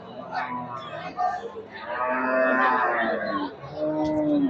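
Cattle low at a busy cow market at Sharatnagar bazaar in Bhangura, drawn-out moos rising close and loud over a murmur of people.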